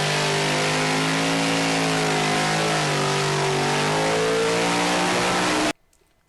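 A Toyota GR Yaris fitted with a Kotouc AWD controller revs steadily and loudly up close, its engine note rising and dipping slightly before cutting off abruptly near the end.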